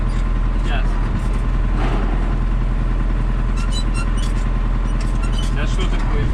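A DT-75 crawler tractor fitted with a Japanese V8 engine rumbles steadily as it tries to pull away in first gear, with a continuous low engine drone throughout and faint clanks above it.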